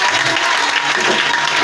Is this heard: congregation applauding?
yes